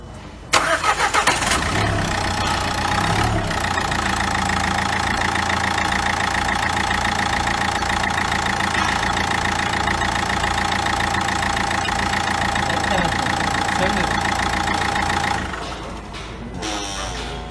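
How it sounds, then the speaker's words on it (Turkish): A car engine cranks and fires up close, then holds a steady, loud idle with a busy mechanical whine for about fifteen seconds before the level drops suddenly near the end. "çalıştır Mete aracı"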